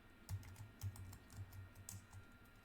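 A password typed on a computer keyboard at a Linux shell prompt: a quick, fairly even run of soft key clicks at close range, quiet and with no talk.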